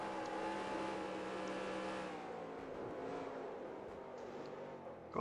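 A stock car engine in the NASCAR Racing 2003 video game runs in a single gear, holding a steady high-pitched drone that sags and then builds again, loud and continuous with no talking.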